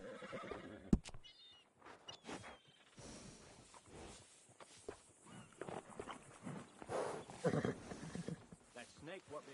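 A horse whinnies in Red Dead Redemption 2, its neigh mixed with hoof steps and in-game voices talking nearby.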